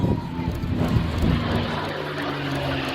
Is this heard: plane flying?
yes